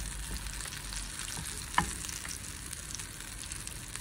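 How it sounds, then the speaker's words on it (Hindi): Shami kebabs shallow-fry in hot oil in a pan, giving a steady, close sizzle with one sharp utensil clink partway through and no talking. "पैन में हमने तेल गर्म होने रख दिया था, और बस हम इसको हल्की सी शैलो फ्राइंग करेंगे।"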